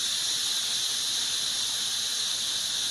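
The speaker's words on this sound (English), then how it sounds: "You hear it letting off the steam?" Steam hisses loudly and continuously from a lidded cooking pot holding camel meat, a steady, even rush with no pauses or voices.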